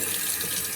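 A kitchen faucet runs full onto a waterproof Bluetooth speaker held beneath it, giving a loud, steady splashing hiss up close, with no voices.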